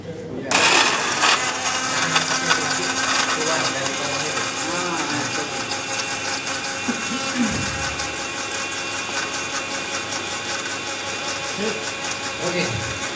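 A blender running continuously while making organic microorganism fertiliser, a steady loud motor whir with rattling from the jar, lasting many seconds, with a voice talking over it.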